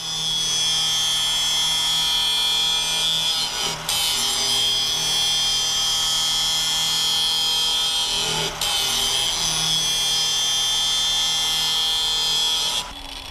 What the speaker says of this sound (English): When grinding welds with a depressed center grinding wheel, you want to be careful not to gouge the part